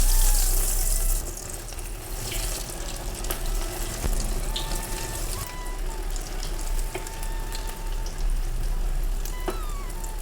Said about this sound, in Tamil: இதை அப்படியே எண்ணெயில் போட்டு பொரிச்சு எடுத்துடலாம்